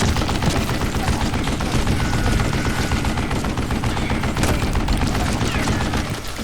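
Heavy, continuous gunfire from a shootout in the Western shooter game Call of Juarez Gunslinger, a dense loud barrage of overlapping shots rattling throughout without pause.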